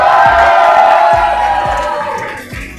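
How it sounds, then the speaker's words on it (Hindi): Audience at an Urdu poetry mushaira bursting into loud cheering and shouting, a dense crowd roar close up that holds strong and then eases slightly toward the end. "हम्माद वामिक के लिए जोरदार तालियां।"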